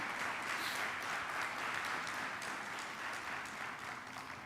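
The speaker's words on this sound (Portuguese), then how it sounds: "Dá um aplauso para Jesus" Steady applause from a youth church congregation, a continuous broad wash of clapping that holds at an even level throughout with no talk over it.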